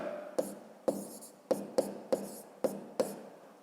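Pen on paper writing a maths sum for a fifth-grade exercise, seven short sharp taps and strokes at an uneven pace, close and fairly quiet, with no talking.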